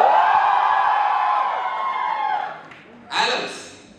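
An audience at a standup comedy show at an IIM Kozhikode alumni talent event roars in a loud, sustained group cheer that fades after a couple of seconds, then a brief second burst of whoops rises and dies away.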